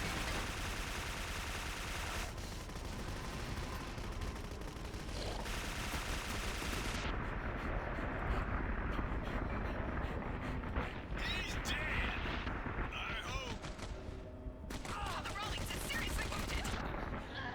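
Gunfire from the horror shooter Clive Barker's Jericho comes as fairly faint, sustained rattling bursts in a dense game soundscape, running on and off for the whole stretch with a voice talking over parts of it.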